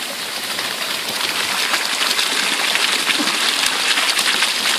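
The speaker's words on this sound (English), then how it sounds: "I'd like your opinions on the water flow." Water rushes steadily through a homemade mini highbanker feeding a three-foot Keene sluice, a constant broadband splashing flow with no talk over it.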